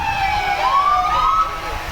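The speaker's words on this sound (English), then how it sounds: "the ambulance, with the sirens and everything else" Park River Ambulance Service siren during a Fourth of July parade, a loud rising and wailing electronic tone sounding close and continuous over crowd and street noise.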